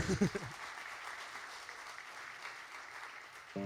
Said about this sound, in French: Oui, on peut applaudir, absolument.